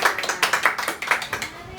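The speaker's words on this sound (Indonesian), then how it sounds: "Tepuk tangan dong semuanya." A few people in a school broadcast studio clap along, a quick run of close, distinct hand claps in an uneven rhythm that fades out after under two seconds.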